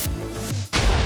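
Minecraft TNT cannons fire again out over the ocean: two loud, close, booming blasts, the first sustained, then a brief drop before the second, heavier explosion.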